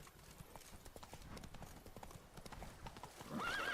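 A horse in The Witcher 3 trots in a steady clip-clop rhythm, faint and continuous, ending in a whinny near the close.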